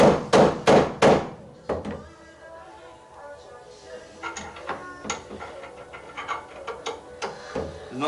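Hammer blows drive a carbon fibre GT wing into place on an R33 GTS-t: four loud, evenly spaced strikes, followed by a scatter of lighter knocks and taps.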